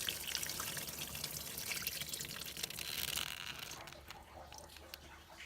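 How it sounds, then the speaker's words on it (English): Water drains from a PCM ZR 409 6.0L boat engine being winterized: a soft, steady trickle and splash runs for several seconds, then thins and fades near the end, with no talk. "Don't pull it off all at once, just kind of let it drain."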